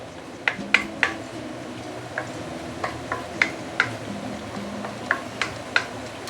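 Thin sliced pork stir-fries in a wok over high heat: about a dozen sharp spatula clicks and taps against the metal, irregularly spaced, over a low, steady sizzle.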